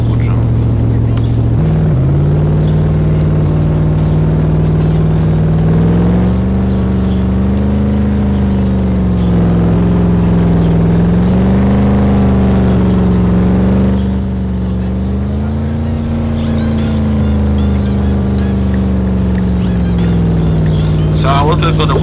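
Dodge Charger engine in a driving video game, a steady loud drone that rises and falls gently as the car cruises and revs, continuous throughout.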